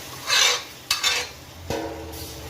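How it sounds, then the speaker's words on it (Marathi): Toor dal with turmeric and asafoetida is mixed in a pan, giving a few separate scraping strokes and a sharp metallic clink of a spoon against the vessel, close and fairly quiet, with no voices. "आता हे सर्व मिक्स करून घेऊ"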